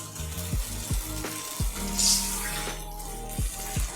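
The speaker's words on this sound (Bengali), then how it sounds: "এখন জল দিয়ে দিলাম" Water poured into a pan of frying potato and cauliflower curry with fish, a steady splashing pour over faint sizzling, with a few soft knocks and clinks; no talk.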